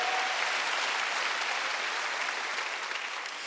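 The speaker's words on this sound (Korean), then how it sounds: "박수." A congregation at a Wednesday church service in Korea gives sustained, even applause, a steady dense roar of many hands clapping at once, holding at a constant level throughout.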